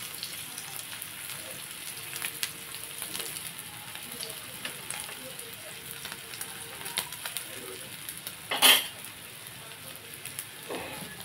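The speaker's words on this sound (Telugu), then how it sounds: "ఇదిగోండి వేడుతున్నాయి కదా చేపలు" Pieces of salted savidi fish fry in a pan with a steady, soft sizzle and crackle, faint but continuous, with a few small pops and one sharper clatter near the end.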